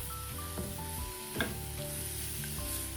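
Cashews being stirred in a pan over a medium flame, giving a steady soft sizzle with scraping stir strokes and a clatter near the middle, over a continuous background of tonal music.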